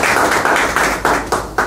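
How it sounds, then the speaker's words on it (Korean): Audience clapping for a guest speaker at a Korean lecture on trauma, heard as a quick run of sharp, evenly spaced bursts, close and fairly loud, fading slightly toward the end. "박수 한번 쳐주세요."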